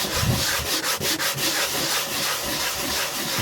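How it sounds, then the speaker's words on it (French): Steady, continuous sanding scrapes across a painted canvas for the whole stretch, a dense gritty rasp with a few brief strokes near the start, close and fairly loud, with no voices. "poncer tout simplement"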